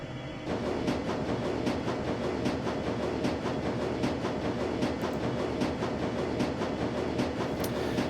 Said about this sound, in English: the train rumbles its way towards Brandenburger Tor